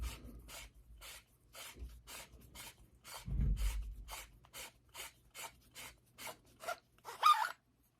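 Lightsaber handle being unscrewed, a run of about sixteen short, evenly spaced dry rasping twists, close and quiet, with one louder scrape near the end and no talking.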